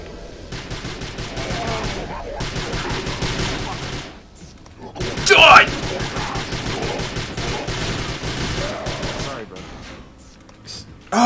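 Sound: gunfire in video game Prey

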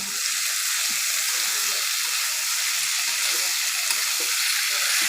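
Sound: banana flower with prawns frying and being stirred in a pan

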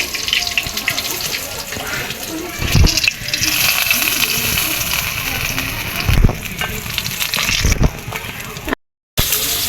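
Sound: fish frying in hot oil

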